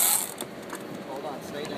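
A fishing reel is cranked hard while fighting a yellowfin tuna offshore, giving a brief, close, fast ratcheting whir of gears with no voices.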